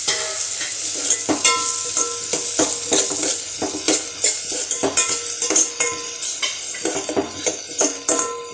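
Onion and tomato sauté in a pan, with a continuous sizzle punctuated by repeated clinks and scrapes of a spatula stirring against the metal, close and fairly loud.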